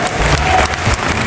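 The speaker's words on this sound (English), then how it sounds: "can we make welcome with a thunderous applause" Applause from the audience at an NBA conference in 2024, dense and steady clapping with some crowd noise, loud and close throughout the short burst.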